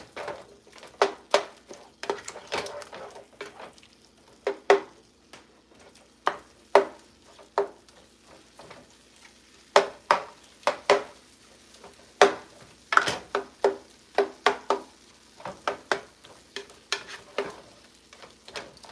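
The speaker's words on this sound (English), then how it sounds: "Mix it all in there. Just flipping it around a little bit." Turkey taco meat sizzles steadily in a pan while a utensil scrapes and stirs it, giving repeated clicks and scrapes over a continuous frying hiss, close and moderately loud.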